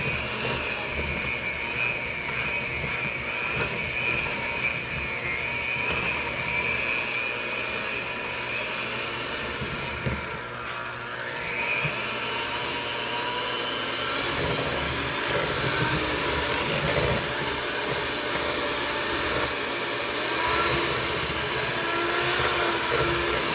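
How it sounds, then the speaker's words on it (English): An electric mixer beating carrot cake batter gives a loud, continuous motor whir. The drone stays close and steady for over twenty seconds, with slight changes in pitch and no voices. "So I'm gonna use my electric mixer again."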